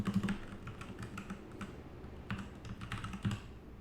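Typing on a computer keyboard: soft, close, irregular keystrokes with a few heavier clicks, heard alone with no speech.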